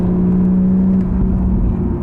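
A BMW Z4 M40i runs with a strong, steady low exhaust drone and a sustained tonal hum, loud and close, holding level without clear revving.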